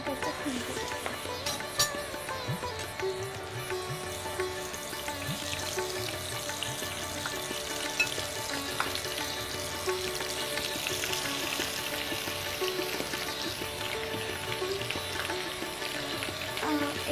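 Food fries in a pan with a soft, continuous sizzle and hiss at low volume, accompanied by occasional faint clinks and background sounds.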